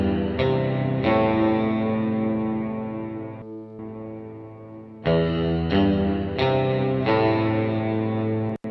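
A music mix is processed through a McDSP FutzVerb reverb plugin, sustained distorted tonal chords with swelling tails, repeated attacks and a brief dip before the sound returns.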